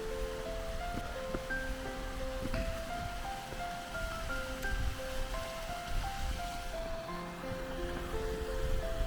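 Stream water flowing where a walking trail crosses it in the Peak District, a steady rushing wash heard close, with a few faint tonal sounds drifting over it and no talking.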